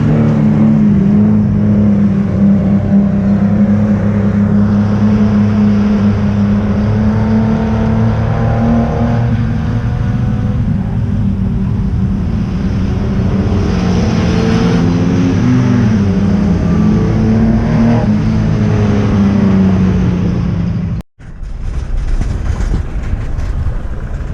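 Race cars at Roma Speedway roar continuously on the final lap, a loud steady engine drone rising and falling as they pass, with a brief dropout near the end.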